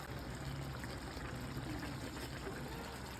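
Water poured into a pot of Ilonggo-style pork humba after the sauce is stirred in, a steady close trickle and splash lasting a few seconds with no talk.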